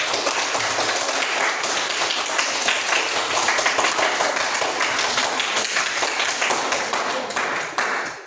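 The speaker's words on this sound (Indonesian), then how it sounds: "Ya, tepuk tangan untuk kelompok." A group of people clapping steadily for several seconds in a classroom, dense and fairly loud, then tapering off at the end.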